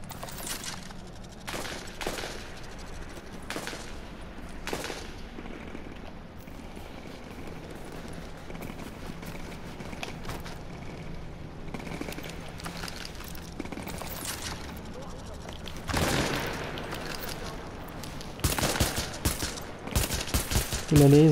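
Gunfire in a firefight in the video game The Division: scattered rifle shots and short bursts, some distant and faint, growing into heavier, closer volleys near the end.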